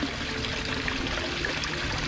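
Water from a koi pond waterfall runs through a 2-inch black ABS bypass pipe, a steady close trickle and splash with no pauses.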